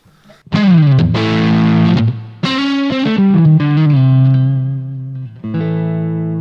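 Electric guitar through a Voodoo 1 overdrive pedal into an amp's vintage channel set to zero gain, played loud and close with sustained, gritty distorted chords and a few short breaks, no talking.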